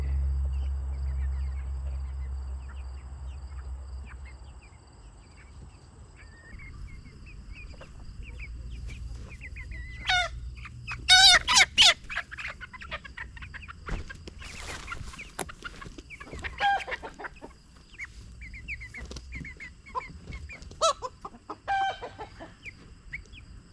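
Silkie chickens cluck in bursts of short, close calls with a rooster among them, after a low hum fades out at the start.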